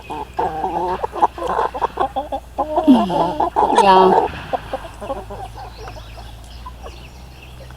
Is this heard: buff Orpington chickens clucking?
yes